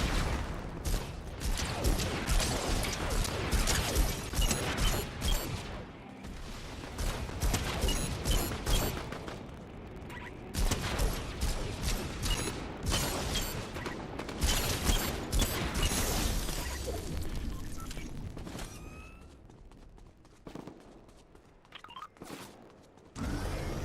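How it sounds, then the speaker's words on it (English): Video game gunfire aimed at the player, dense rattling bursts and mechanical clatter filling most of the stretch, loud and close, thinning near the end. "Somebody just frickin' shoot at me."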